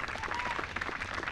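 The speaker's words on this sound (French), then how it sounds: "Vous allez pouvoir applaudir l'équipe de Drevet Sénart représentée par Tasnim Lezer et Florent Mell" A crowd at a classic recurve archery mixed doubles gold-medal match applauds steadily, a dense patter of many hands clapping throughout with no pauses.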